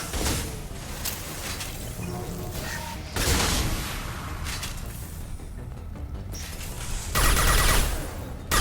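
Gunfire in the Mass Effect 2 video game: rapid bursts of weapon fire during a firefight, with louder volleys near the start, middle and end over a steady background of combat noise.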